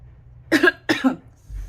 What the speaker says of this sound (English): my cough seems to be back